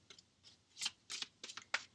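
A tarot deck being shuffled by hand: a quiet run of soft riffling card flutters in short bursts, close and fairly faint, with no talking.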